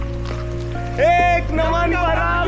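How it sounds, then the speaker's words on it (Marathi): Steady rain falls on a monsoon trek to Pratapgad in Gondia district, a soft constant patter beneath louder talking voices and a low hum. "बघू शकता तुम्ही, मस्त असा पाऊस येतो आहे कंटिन्यू."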